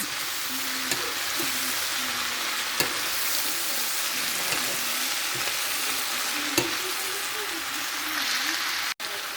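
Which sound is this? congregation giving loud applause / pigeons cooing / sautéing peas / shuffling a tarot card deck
sautéing peas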